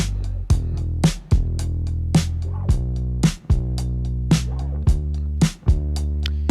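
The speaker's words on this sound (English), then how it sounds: "He played this on his old P bass. It's like 60s P bass." Dirty, heavily crushed electric bass played on an old 1960s Precision Bass, a steady sustained line with regular plucked note attacks roughly every half second, loud and close, with no talking.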